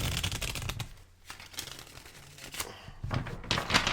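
Reading cards being shuffled at a live reading session, a few quick riffling bursts with soft papery rustles, close by, with brief pauses between.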